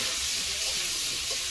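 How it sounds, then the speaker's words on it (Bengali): Food sizzles loudly in a hot pan as turmeric is stirred in, a dense close hiss with faint scraping of the spoon and no talking. "এই যে হলুদটা দিয়ে দেবো, দিয়ে ভালো করে মিশিয়ে নেব"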